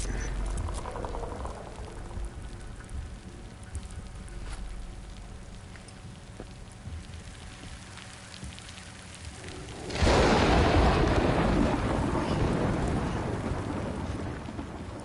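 Steady rainfall hisses throughout in the video game Death Stranding, then swells abruptly into a much louder roaring downpour with rumbling, like a storm breaking overhead.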